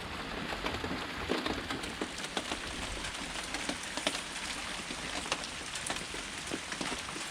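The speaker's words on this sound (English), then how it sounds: "Now it's starting to transition over to rain" Rain falls steadily outside an off-grid cabin, a constant close hiss of drops pattering on surfaces, dotted with small irregular taps and no voices.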